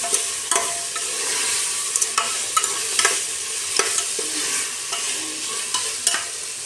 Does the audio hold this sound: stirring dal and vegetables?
yes